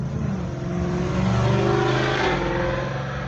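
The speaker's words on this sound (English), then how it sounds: "We got one loud, crazy driving car out from over here." A loud car drives past close by with a heavy, droning engine roar that holds steady and peaks midway before easing slightly.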